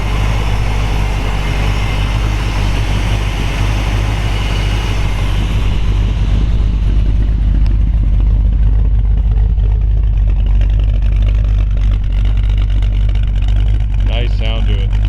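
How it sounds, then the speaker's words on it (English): A 1958 Chevrolet Impala hardtop with a 348 four-barrel V8 idles steadily, its exhaust a deep continuous rumble held at one level through the whole stretch, close and loud, with brief clattery noises near the end. "Go back and let you hear the exhaust."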